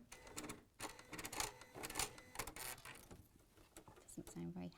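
A sewing machine during a quilting session for the Moda Elin project runs in uneven, rattling stutters with sharp clicks, struggling rather than humming smoothly, while people talk over it.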